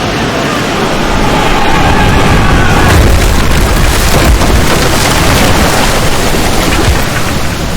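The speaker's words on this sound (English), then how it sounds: "They're headed straight towards us. They're gonna ram!" A pirate ship ramming into a vessel in the game Expedition Rome: a loud, continuous crashing roar of splintering impact and rumbling debris that fills the whole stretch at full volume.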